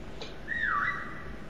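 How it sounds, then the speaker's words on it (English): A single short whistle in the video game Call of Duty: Black Ops Cold War, a rising-then-falling tone lasting about half a second, fairly clear over low background noise. "I heard a whistle again."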